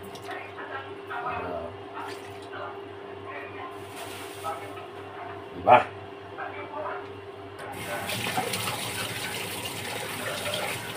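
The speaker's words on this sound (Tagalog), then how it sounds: "Ngayon, lagyan natin ang konting tubig." Water pours into a cooking pot while binagoongan simmers with coconut milk, a broad gushing splash starting late and running steadily to the end, following stretches of quiet kitchen sound and a brief clatter, with a voice speaking now and then.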